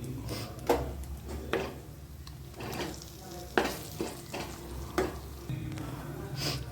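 Spices with asafoetida and salt are sautéed in oil in a pan for a chili-oil rice dish, a soft sizzle punctuated by several sharp scraping clatters of a spoon stirring, close and without talk.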